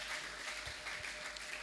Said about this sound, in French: Applaudissons très fort pour le Seigneur Jésus, pour le Seigneur.